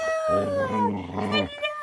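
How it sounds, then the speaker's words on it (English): A dog howls in a long, wavering, rising-and-falling tone, close and fairly loud, with a brief break before a second shorter howl. "Somebody wants to say hi. Come on. Come here. Look at that doggy."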